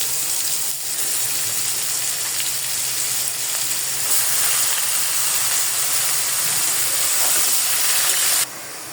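Onions fry in a pan for a small-fish curry, giving a loud, constant close hiss and sizzle that drops suddenly near the end, with no talking.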